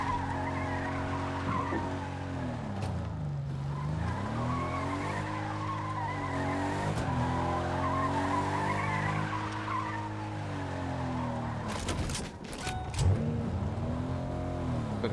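Car in Fortnite Chapter 5 driving with a loud, steady engine drone that rises and falls in pitch, tires skidding and screeching throughout, with a few sharp impacts near the end.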